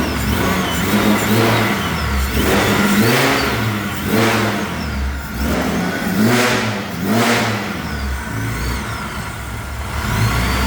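The engine of a turbocharged Nissan Xterra runs up close and revs in repeated swells, rising and falling over a steady idling rumble.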